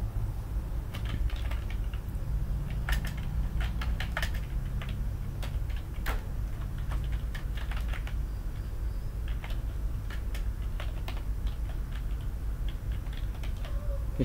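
Keys clatter on a computer keyboard in quick, uneven bursts of close clicks over a low steady hum, with no talking.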